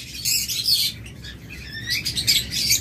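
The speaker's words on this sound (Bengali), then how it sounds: "তারপর এখানে রয়েছে অনেকগুলো লাভবার্ড" Lovebirds in a bird shop chirp and tweet in rapid, overlapping bursts, a close, busy chatter of high calls with brief pauses between flurries.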